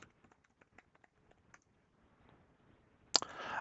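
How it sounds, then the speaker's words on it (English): Faint, sparse key taps on a computer keyboard while a password is entered, a short irregular run of soft clicks, then a louder clatter near the end. "I'm going to type in my password,"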